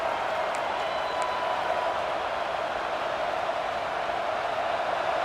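A packed stadium crowd roars steadily at a college football game between Notre Dame and Ohio State, a dense, unbroken wash of cheering and noise rallying the defense in the red zone.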